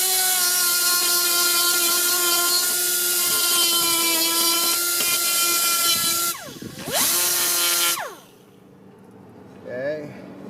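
A power grinder blending wood on light frames whines loud and steady for several seconds, then its pitch sweeps down as it slows and stops. Quiet room tone follows, with a brief voice near the end.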